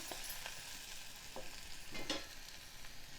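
Ridge gourd frying in oil in a Telangana-style curry, a steady bright sizzle with occasional soft stirring scrapes, close and continuous, no voices.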